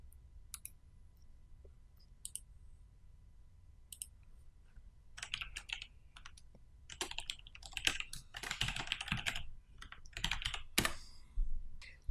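Computer keyboard keys tapped while creating a new JSON file, sparse single clicks at first and then building into dense, steady runs of typing, fairly close and quiet, with no talking.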